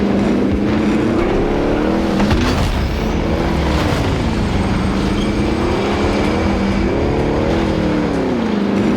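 A car driven in Call of Duty: Modern Warfare, its engine droning loud and steady with rhythmic rises and falls in revs as it speeds along, with no talking.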